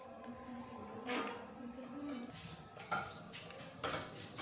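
A spoon mixes vinegar or lemon juice into a leftover spice masala for a mutton pickle: a few faint metallic clinks and scrapes against a bowl, separated by short pauses, with no talking.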